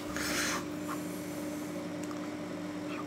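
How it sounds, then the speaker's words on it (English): Protein pancake batter is whisked in a bowl, with scraping, rubbing strokes that are loudest at the start and then settle into a softer, steady stirring texture close by, with no talking. "we're going to whisk all this together in a bowl until it's nice and smooth"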